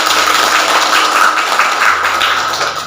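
Classroom applause from students in an Islamic studies lesson, a dense, steady patter of clapping hands that holds for about three seconds with a slight fade at the end.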